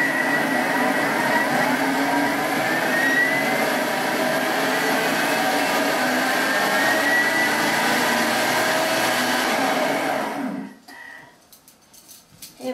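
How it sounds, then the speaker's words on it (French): A hand blender purees a Provençal tomato soup with vermicelli in a pot, a loud steady motor whir and churning for about ten seconds before it switches off and stops abruptly. "je vais mixer"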